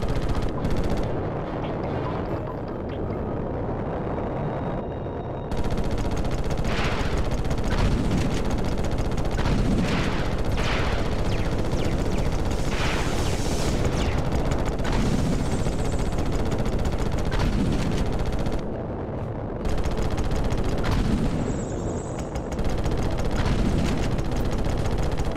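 Combat noise from Ratchet & Clank (2002): a dense, continuous barrage of booming cannon shots and blasts, with brief drops to quiet between volleys.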